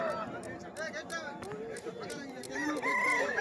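Roosters at a village cockfight in rural Bengal, with repeated crowing calls and clucking rising through a steady crowd chatter, loudest toward the end; people talk throughout.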